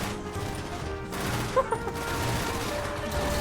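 Rapid NPC gunfire shooting back in a Minecraft motorcycle racing mod, a steady dense rattle of game shots with a couple of sharper cracks near the middle.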